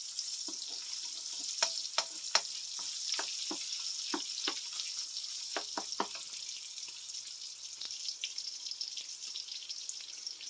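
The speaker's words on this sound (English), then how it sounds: "you cook it until the sausage gets brown" Sausage and bacon frying in a skillet give a continuous bright hiss, broken by scattered sharp pops and crackles of spitting fat, heard close up without any voices.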